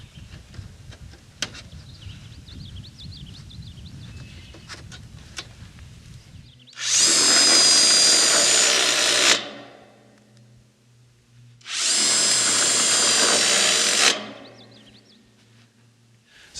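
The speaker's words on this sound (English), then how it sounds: "we're going to attach this using the shorter 3/4 inch Tex screws" Two long, loud bursts of a power drill driving short 3/4 inch Tex screws through H channel trim on a high tunnel greenhouse wall, each whine lasting a few seconds, separated by a quiet pause, close up.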